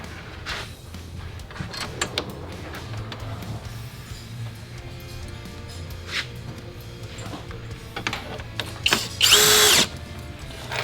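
A power drill drives OEM screws into light guards on an Ineos Grenadier, with short bursts of motor whine between clunks and handling noises, and one loud high whirring burst near the end, close by.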